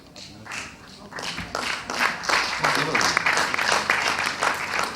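An audience at a rabbis' debate breaks into scattered clapping that swells into fuller applause, with a voice talking over it.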